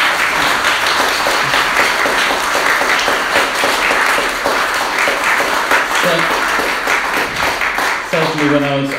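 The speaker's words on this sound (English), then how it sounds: "Let's give another massive round of applause to Antonis for tonight." An audience applauds after a public talk on particle physics at the Large Hadron Collider, loud sustained clapping that fills the room, with a voice coming in near the end.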